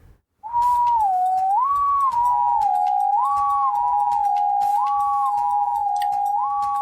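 A person whistles an imitation of a distant whistle heard in the wilderness, a sustained wavering tone that rises and falls in repeated phrases, loud and alone.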